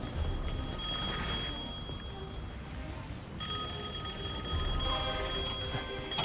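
Old telephone ringing in Devil May Cry 5, a steady electronic bell tone repeating across the clip at moderate loudness, with no talk over it.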